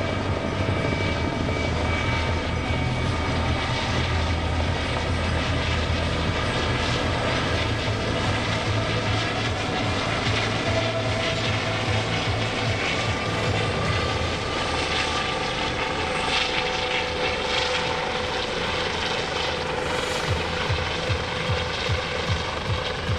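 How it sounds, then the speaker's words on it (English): A U.S. Coast Guard search-and-rescue helicopter with a ducted fan (fenestron) tail rotor flies close at an air show, its loud, steady turbine roar and rotor churn filling the air without a break. "I believe they call it a fenestron, but I call it a ducted fan tail rotor."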